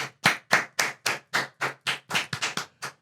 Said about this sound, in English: Round of applause for Sterling Scott right now.